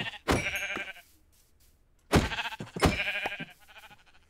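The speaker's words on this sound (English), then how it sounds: "Holy crap, there's a lot of sheep" Sheep bleat in the Minecraft video game, three separate loud, close calls with quiet gaps between them and no talk over them.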